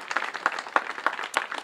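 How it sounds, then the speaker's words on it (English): Scattered applause for museum staff at a historical society archives ribbon-cutting ceremony, with a handful of distinct claps rising over a soft, steady patter for under two seconds. "please give a big round of applause for the staff"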